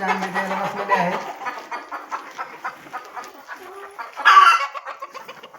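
Native desi hens on a farm, sitting to lay eggs, cluck and murmur close by in short irregular bursts, with one louder squawk near the end.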